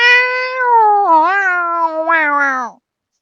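A white and tabby cat gives one long, loud, drawn-out meow close behind a bathroom door, rising and wavering in pitch before cutting off into silence.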